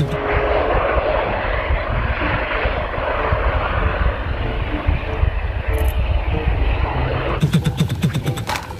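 An aircraft engine roars steadily and close as the plane takes off, with a sharp rapid clattering burst near the end.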